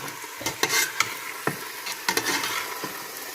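Fish pieces cooking gently in a big pot for seafood chowder, with a soft steady sizzle and a few sharp stirring clicks and scrapes of a utensil against the pot, close and fairly quiet, no talking.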